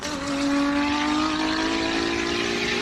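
A race car at the Simola hill climb roars past at close range, its loud engine holding a strong droning tone that slowly shifts in pitch as it travels, with no voices over it.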